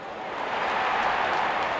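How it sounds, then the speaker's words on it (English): A cricket stadium crowd at a T20 World Cup match between Pakistan and Australia roars as the openers walk out. The broad wash of cheering and applause swells slightly and sustains, distant and dense. "Openers walking in and the crowd cheering in anticipation."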